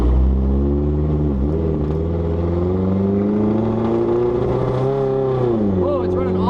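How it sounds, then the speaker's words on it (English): An improvised race car's engine revs and runs rough, its loud, droning note rising and dipping unevenly and stumbling near the end, close to the listener. "Whoa, it's running awful."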